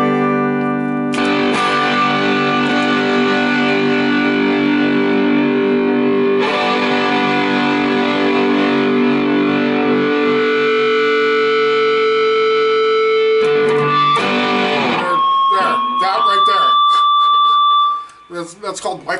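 A hollow-body electric guitar feeds back, holding loud, sustained howling tones that shift pitch and end in a high, screeching whine.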